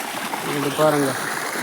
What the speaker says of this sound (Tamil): எவ்வளோ கஷ்டப்பட்டு லைன் அப்படியே தண்ணி போதே, மொத்தமே தண்ணி போகுதுப்பா